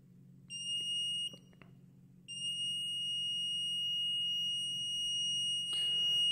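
A digital voltmeter's low-voltage alarm beeps shrilly in two long continuous tones, broken by a short gap, over a steady low hum, loud and close.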